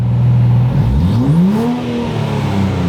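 A Nissan Z with an AWE Touring/Track Edition exhaust revs up from idle, engine note sweeping upward then settling into a sustained loud drone, close and dominant with no talking.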